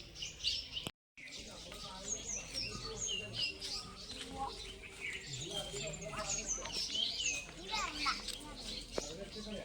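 Many birds chirp and tweet in quick, overlapping bursts, with a busy outdoor murmur underneath and a brief silent gap near the start.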